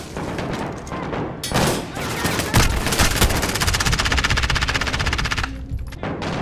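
Sustained rapid automatic fire from an MP7 submachine gun in the Modern Warfare campaign, loud and close, rattling continuously for several seconds with booming impacts mixed in and a brief cut near the end.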